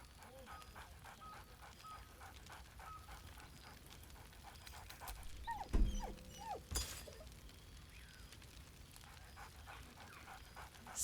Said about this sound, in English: Scratch barks merrily in something like agreement.